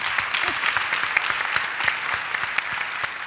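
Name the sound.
audience applause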